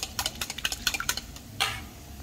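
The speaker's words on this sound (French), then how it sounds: "je viens de râper la noix muscade" Whole nutmeg scraped rapidly against a small grater, a quick run of about a dozen short rasping strokes followed by a brief louder scrape, close and clear in a quiet kitchen.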